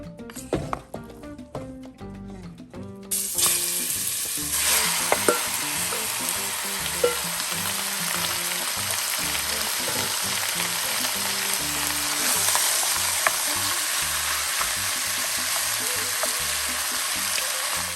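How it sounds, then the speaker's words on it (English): Meat sears in hot oil for a meat and potato stew, starting with a few seconds of clattering and then a loud, dense, continuous sizzle close by. Occasional stirring knocks sound over it, with no speech. "While the meat is searing"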